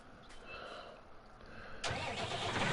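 A tractor engine in a farming video game cranks over a low background hum, then catches at about the two-second mark and runs loud and steady to the end.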